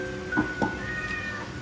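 Cats meow as food is being served, two short close mews in quick succession followed by a softer drawn-out call over a quiet indoor background.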